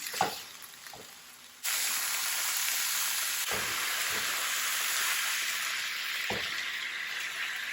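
Vegetables sizzle and fry in a hot pan, a steady loud hiss starting after a few soft scrapes and taps, continuing with occasional stirring knocks.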